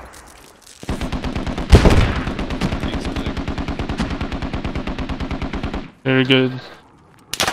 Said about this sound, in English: Taking fire. Shots coming in from the east.